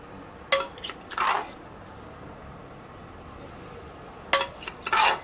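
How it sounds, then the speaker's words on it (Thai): Green papaya salad is pounded in a mortar, giving two short bursts of knocking and clattering strikes separated by a quiet pause. "มะละกอยังขาวอยู่เลยตำยำด้วยนะคะ"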